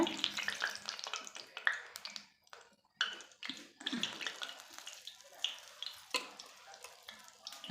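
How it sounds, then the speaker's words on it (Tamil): Semolina and banana snacks sizzle and crackle in hot oil, with bursts of bubbling and spattering that rise and fall, close by. "எண்ணெயும் நல்லா சூடேறிடுச்சு ஒவ்வொன்றா போட்டுடலாம் பொரிக்கிறதுக்கு"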